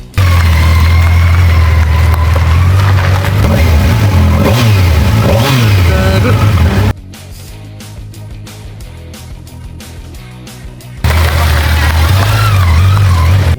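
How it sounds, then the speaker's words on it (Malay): A Kawasaki Versys 1000 SE motorcycle engine revs loudly and rises in pitch during a test ride, with a steady powerful drone that drops to a quieter, lower level midway before surging back up. "Motor ni sangat smooth engine dia sangat refine, sangat selesa."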